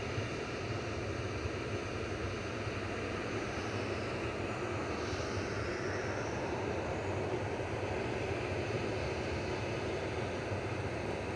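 Ryanair Boeing 737-800, operated by Malta Air, rolling out at Manchester Airport bound for Barcelona, a constant, moderately loud jet engine rumble and hiss that stays steady throughout with a subtle whine swelling briefly midway.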